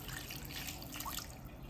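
Water poured into a bowl for a chicken marinade, a faint, steady trickling stream heard alone for a moment.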